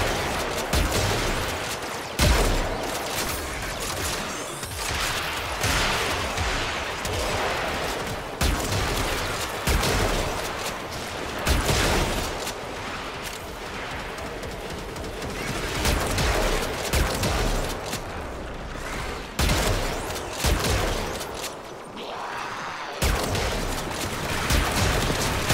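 Sustained weapon fire in the video game Warframe, a dense, loud, continuous barrage of rapid shots and bursts layered over game effects throughout, with no talking.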